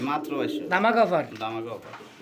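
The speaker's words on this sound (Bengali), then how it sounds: "দেখতে পাচ্ছেন চমৎকার এক জোড়া ইরানি বারহমা কবুতর" A pair of Irani Barhma pigeons giving soft, rolling coos at close range, a short burst of throaty warbling calls over a brief stretch.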